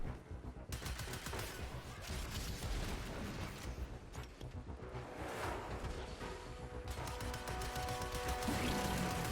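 Rapid weapon fire from the Scatterblaster in the PC video game Warframe, a dense continuous stream of bursts and crackling impacts layered over game sound effects, loud and sustained with no talking.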